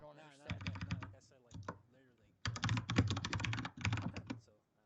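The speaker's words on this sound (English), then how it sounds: "can you do me a favor and get a louder keyboard?" Rapid clattering bursts of typing on a loud mechanical computer keyboard, close and crisp, in several clusters separated by short pauses, with faint voice underneath at the start.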